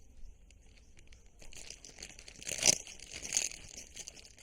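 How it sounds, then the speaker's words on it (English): Faint crinkling plastic and a few soft scissor snips as a bag is cut open close up, with quiet rustling between. "You can use regular scissors. Just cut this bag off."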